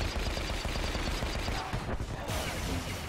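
Dense gunfire from Star Wars: The Old Republic gameplay, rapid overlapping shots forming a continuous rattling barrage at moderate level, briefly thinning near the middle before resuming.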